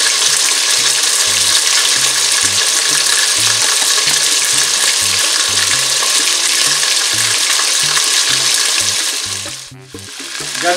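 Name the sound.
chicken frying in a pan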